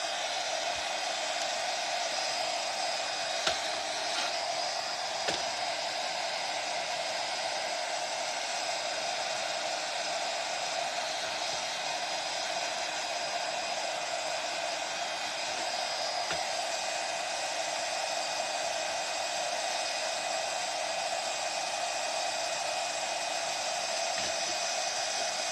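A heat gun warms WoodUBend wood trim, giving a continuous, even blowing whoosh that holds steady throughout.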